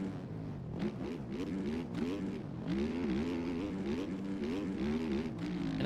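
Several motocross bike engines from the MX Bikes racing game, including a KTM, buzz and rev continuously in an overlapping, wavering drone at steady loudness, with no talk.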